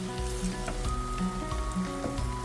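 Food sizzles in a frying pan on the stove, a steady close crackle with small pops and occasional clinks of a utensil at the pan's edges, and no voices.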